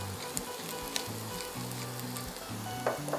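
Potatoes seasoned with salt and pepper sizzle and fry quietly in a pan, with a soft continuous crackle and a few light stirring clicks.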